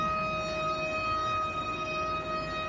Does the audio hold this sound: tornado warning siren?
yes